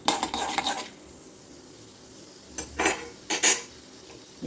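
A spoon scrapes and stirs in a kadai with a spoonful of oil while tempering spices for beetroot poriyal. Several sharp clatters of metal come in short bursts, with a faint sizzle between them, close by.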